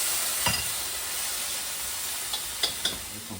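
Pancit noodles sizzle steadily in a hot pan as they are stirred, a continuous close frying hiss broken by a few sharp scraping clicks of the utensil, with no voices.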